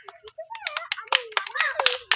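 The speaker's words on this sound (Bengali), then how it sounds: "সকলে জোরে হাততালি একবার।" Audience clapping for a prize winner at a village children's game contest, with scattered sharp claps running throughout and children's voices chattering close over them.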